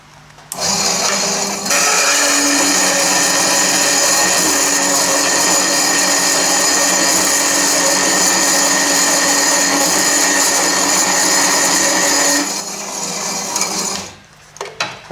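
A wood bandsaw converted for metal cuts a sheet of galvanized steel, a loud steady grinding whine with metallic ringing that holds for about eleven seconds before winding down, with no talk over it.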